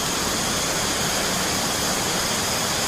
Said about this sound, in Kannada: ಒಂದು ಫಾಲ್ಸ್ ಒಳಗಡೆಯಿಂದ ನೀರು ಬರ್ತಿದೆ